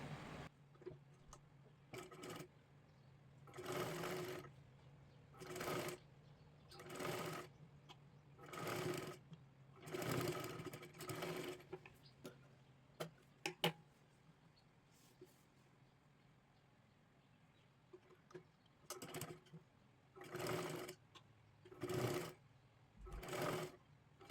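A sewing machine stitches lace along the neckline of a blouse for a Kathpadar saree, running in repeated short bursts of rapid whirring separated by brief pauses, close and clear.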